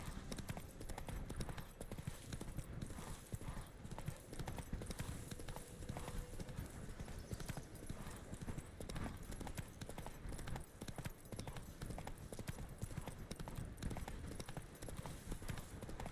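Horse hooves clip-clop rapidly at a gallop in The Witcher 3, a continuous drumming rhythm of game footsteps with occasional faint snorts, carrying on throughout.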